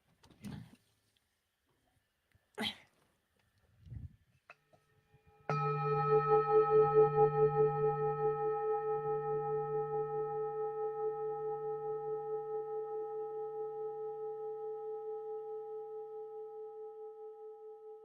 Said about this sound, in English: that is the sound of a new member.